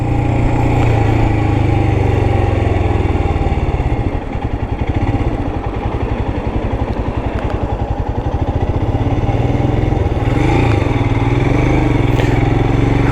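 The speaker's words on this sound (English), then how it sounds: "we're riding through this little urban area" Royal Enfield Classic 350 motorcycle riding through a small urban area: a steady, loud single-cylinder thump heard close from the saddle, with slight throttle changes and a brief dip in the middle but no real pauses.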